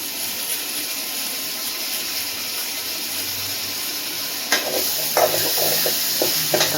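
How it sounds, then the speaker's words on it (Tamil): Chopped tomatoes sautéing with onions in a pan for a bottle gourd and pea kara kuzhambu, giving a steady, close sizzling hiss with a few light utensil knocks near the end. "தக்காளி நல்லா வதங்கட்டும்."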